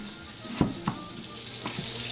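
Cubes of beef sizzle and brown in hot oil, a steady close frying hiss broken by a few soft clicks as pieces shift in the pan.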